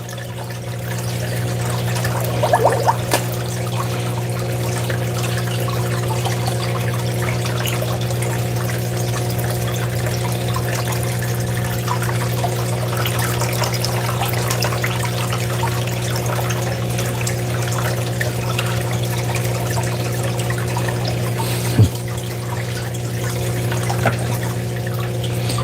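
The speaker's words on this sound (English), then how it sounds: "So I've rinsed the riffles down." Water rinses the riffles of a gold panning sluice in a continuous, even flow over a steady low hum, with a single brief knock near the end.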